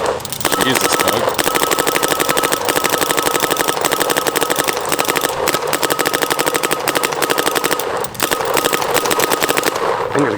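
A Push Propel mechanical paintball marker fires outdoors in a fast, continuous stream of rapid pops lasting the whole stretch, with people talking and reacting underneath.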